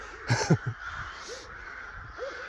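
Several crows caw in the countryside, with a quick cluster of harsh calls near the start and single caws later, fairly close over a low outdoor background.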